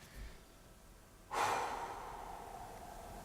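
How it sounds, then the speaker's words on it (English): A single breath drawn in sharply and then let out, close and fairly loud, standing alone. "But take a breath."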